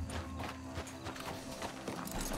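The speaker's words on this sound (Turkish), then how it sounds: "Şu Dutch'ın atı herhalde değil mi" Horse hooves clip-clop at a steady gait in Red Dead Redemption 2, busy and close amid game ambience and background music, with no talk over them.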